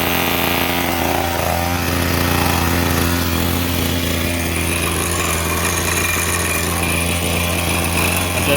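A Stihl FS66 string trimmer's small two-stroke engine runs steadily up close at a high, buzzing pitch for the whole stretch, loud and continuous with no talking.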